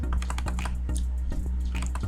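Rapid keystrokes on a computer keyboard while coding a JavaScript calculator, an irregular run of close, crisp clicks over a steady low electrical hum.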